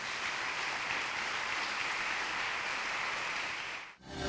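A church congregation claps in praise to the Lord, a sustained, even wash of applause that holds steady for about four seconds and then cuts off abruptly.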